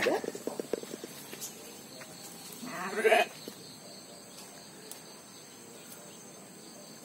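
Near a sheep and goat pen after morning rain, a goat gives one clear, wavering bleat while feeding, set between soft voices, faint insect chirring and small scattered knocks.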